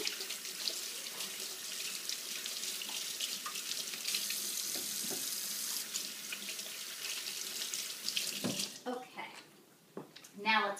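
A kitchen tap runs steadily as hands are rinsed beneath it, a bright close hiss of splashing water. The flow cuts off near the end, and a voice speaks briefly afterward.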